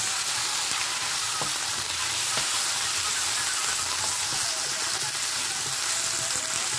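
Potatoes hit a pan of oil with asafoetida over a low flame, giving a steady, close sizzle that runs unbroken throughout, with a few faint ticks of the pan.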